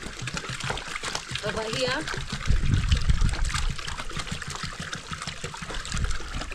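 Water is poured from a jerrycan into a basin outdoors in an African village, trickling and splashing steadily for several seconds while someone talks over it.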